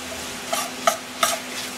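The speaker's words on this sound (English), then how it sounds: "Frying" Sausage frying in a pan on the stove, stirred a few times, with three distinct scraping stir strokes over a steady background sizzle, close and fairly loud.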